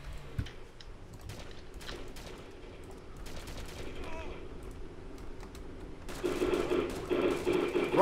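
In the video game DayZ Taviana, rapid gunfire crackles as a string of short, sharp bursts, fairly faint and mixed under excited talking and game noise, growing busier toward the end.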